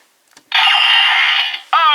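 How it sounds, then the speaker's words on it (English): A Lupin Gunner toy from Kamen Rider Drive plays a short electronic announcement voice, a bright, tinny burst with a sung tone at the end, coming loud and close after a brief click. "the announcement sound is Ultimate Lupin"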